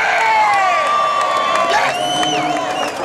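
Serbian fans of Novak Djokovic cheer inside Rod Laver Arena at the Melbourne tennis final, a loud continuous crowd roar with whoops and high shouts rising above it throughout.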